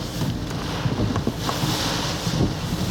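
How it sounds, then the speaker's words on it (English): Strong wind gust from Category 1 Hurricane Nicholas in Matagorda, Texas, a loud sustained roar buffeting the microphone with rattling debris-like crackles and clicks throughout, no voices. "Nice little gust."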